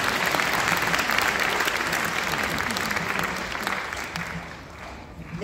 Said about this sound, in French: Alors s'il vous plaît, vos oreilles attentives, applaudissez pour vous-même.